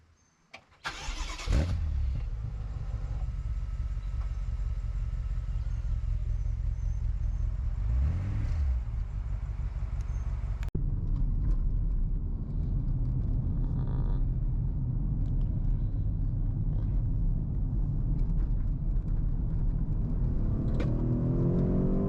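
A BMW F85 X5M starting up and pulling onto the road, engine catching sharply then settling into a steady, loud interior drone with shifting revs and tire and road noise, no talking.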